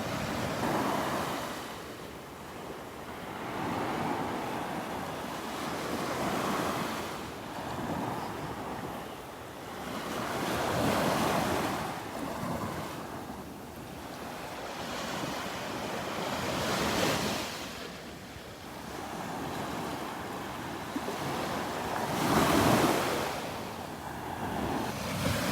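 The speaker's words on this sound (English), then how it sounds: "I love these little waves." Small ocean waves break gently on a beach in North Naples, Florida, in slow rolling swells every few seconds, with wind noise buffeting the microphone.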